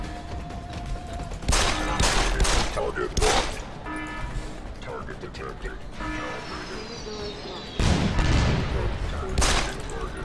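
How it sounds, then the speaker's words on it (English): Rockets fire in the video game Deus Ex: Human Revolution during a fight with two large robots, a string of loud blasts and thuds with rumbling gunfire between them, while players talk excitedly over the action. "Those are rockets."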